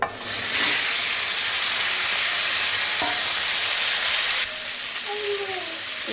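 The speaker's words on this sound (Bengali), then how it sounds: "এবার ওই তেলে আমি আলুগুলোও ভেজে নেব।" Potatoes frying in hot oil left over from frying rohu fish, a loud continuous sizzle and hiss that drops slightly in level partway through, with no talk.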